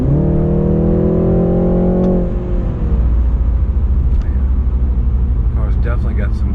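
A 2020 BMW 330i accelerating in sport mode, its engine note climbing steadily from inside the cabin, then a brief shift before the drive continues as a rumbling road and engine drone.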